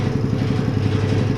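A rebuilt concrete mixer engine idles close by at low RPM, a rough, rhythmic chugging drone with no other sounds.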